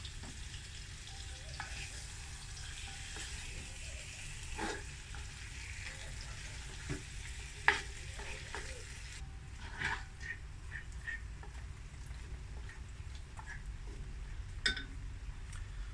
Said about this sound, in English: just brown all the lamb nicely, get it to start to caramelize